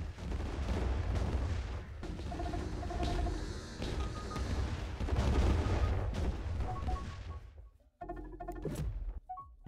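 Bombard fleet shelling a colony in the space strategy game Distant Worlds 2, heard as dense, continuous rumbling booms and impacts that sound loud and close, with a brief lull near the end before more hits.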